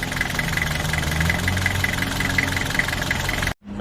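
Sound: Nissan Frontier TD27 diesel engine running after cylinder head replacement

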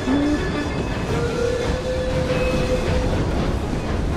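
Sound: train running, from video game Assassin's Creed Syndicate

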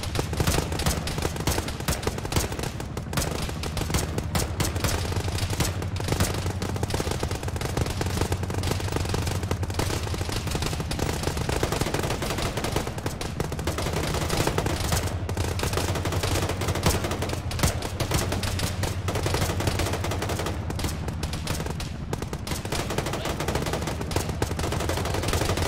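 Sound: gunfire in a ShackTac Arma video game firefight

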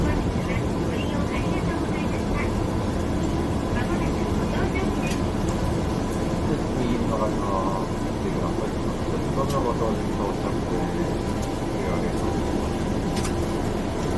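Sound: shuttle bus ride to the airplane

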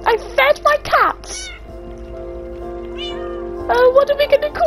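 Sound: cats meowing in Minecraft video game

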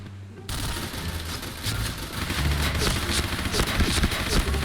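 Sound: Gatling gun firing in Point Blank video game

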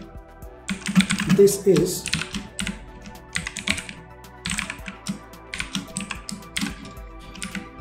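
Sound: typing code on a computer keyboard

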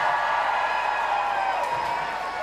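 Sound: crowd applause at women's football match

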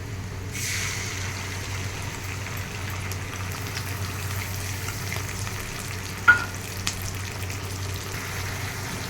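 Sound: onion paste frying in oil for jackfruit biryani

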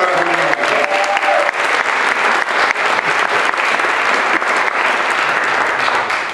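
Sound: audience applause

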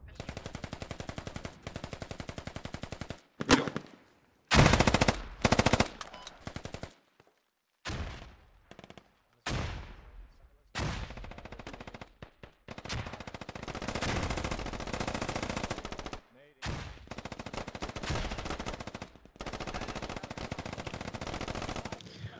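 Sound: gunfire in the video game Squad

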